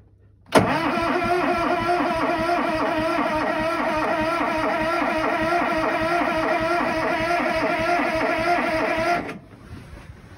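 A small engine, unused for two months, starts suddenly and settles into a steady, loud running drone for about nine seconds before abruptly shutting off, with no voices.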